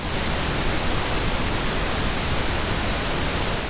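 Rain presented as white noise: a dense, even hiss of falling water that stays steady and loud from start to finish, with no voices or breaks.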